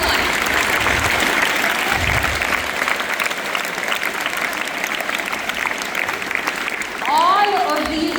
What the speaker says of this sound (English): everybody else give a big round of applause